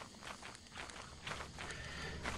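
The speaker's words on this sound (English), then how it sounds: "Footsteps." Heavy footsteps of a giant creature in the horror co-op game Lethal Company, a series of muffled thuds in an uneven walking rhythm over a low rumbling ambience, fairly quiet and at a distance.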